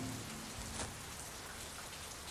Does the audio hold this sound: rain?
yes